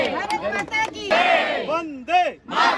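A crowd at a Divyang sports festival event in Ahmedabad shouts a patriotic chant in rhythmic bursts, voices rising and falling in unison several times, loud and close.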